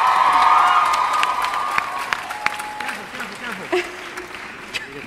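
Audience at a live TV panel event screaming and cheering loudly, with applause and high shrieks that slowly fade, while a voice talks over the crowd noise.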